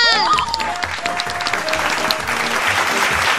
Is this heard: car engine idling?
no